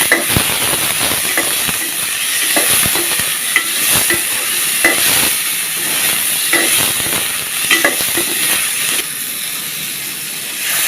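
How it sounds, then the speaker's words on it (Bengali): Chopped onions and tomatoes fry loudly in a pan, a close, dense sizzle with frequent crackles and scraping stirs recurring at irregular intervals. "পেঁয়াজ কুচি দিয়ে দিলাম, টমেটোগুলো দিয়ে দিলাম,"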